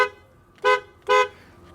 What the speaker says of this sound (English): Let's see how the horn goes.